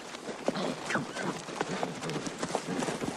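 Horse hooves clip-clop in a quick, uneven rhythm on ground, close and fairly loud, with faint rustling and movement mixed in.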